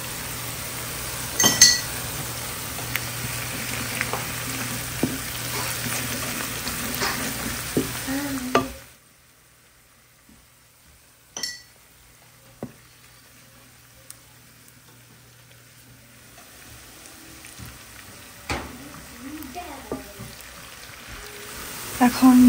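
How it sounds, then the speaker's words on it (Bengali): Beef tripe and chopped onions with turmeric are stirred and fried in a pan, with a steady sizzle and utensil scrapes for several seconds before it drops to near quiet and occasional clinks, while a voice talks. "অনেক ভাজা হয়েছে পেঁয়াজ।"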